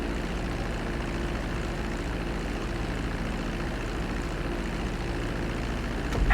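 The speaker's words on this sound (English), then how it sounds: "Start reducing the plane's altitude gradually so you're just above the runway as you approach." A plane comes in to land on a runway in the video game GTA V, its engine giving off a steady, loud drone throughout with a slight swell at the very end, and no voices.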